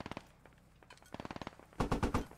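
.50 cal machine gun fire in the video game Squad, heavy rapid bursts of shots, a short burst, then a louder closer burst near the end.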